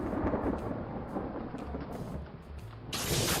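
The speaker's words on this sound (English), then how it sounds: "Mr. Brown makes thunder." A thunder sound effect accompanying a Dr. Seuss read-aloud, a dense rumbling roll of thunder with rain-like hiss, loud and close throughout, swelling into a bright crackling burst near the end, with no speech over it.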